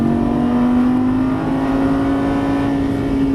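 A Lamborghini Gallardo Superleggera LP570-4 engine drones loudly and steadily as it accelerates out of a turn on a Las Vegas track, its pitch climbing slowly with a sustained mechanical whine.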